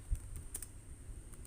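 A few quick, soft keystrokes tap on a computer keyboard as a php artisan command is entered, faint and close against a low background hum.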